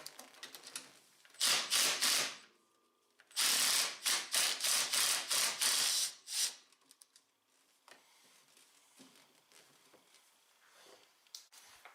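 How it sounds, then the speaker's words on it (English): A hand ratchet zips loudly in two long bursts, then clicks more quietly and sporadically, while removing the 10mm bolt holding the brake reservoir on a Honda Talon. "Go ahead and remove the 10mm bolt that holds your brake reservoir on."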